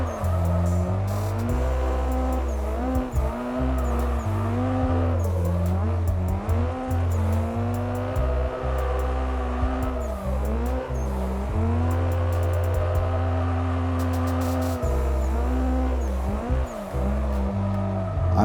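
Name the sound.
car drifting in first gear, video game Assetto Corsa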